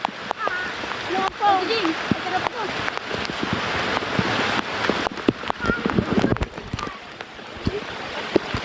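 Steady rain patters and hisses across a surface, with scattered heavier drops; faint voices murmur underneath.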